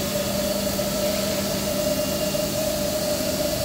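A CNC milling machine runs a G3.1 spiral pocketing program, clearing an 80 mm wide, 10 mm deep pocket, with a steady loud mechanical whine and constant tonal hum and no pauses.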